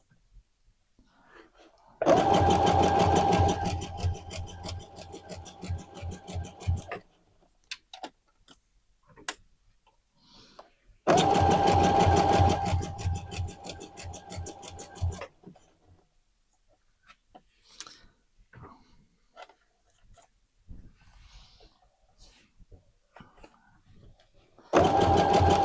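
A sewing machine stitches stretch fabric for leggings in two long bursts of rapid, even clicking and a third short start at the end, with quiet handling noises and pauses in between.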